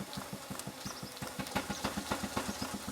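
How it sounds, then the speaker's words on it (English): A large model showman's steam engine runs close by with a steady, rapid chuffing beat, the repeated exhaust pulses evenly spaced and fairly loud throughout. "Notice how the sound changed when the engine was pumping water into the boiler."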